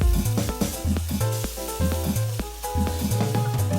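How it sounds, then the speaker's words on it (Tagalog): Garlic, onion and tomato sautéing in oil in a pan, a steady sizzle with rhythmic stirring or scraping knocks repeating throughout, close and moderately loud with no talking. "Put some oil in the pan and saute the garlic, onion, and tomato"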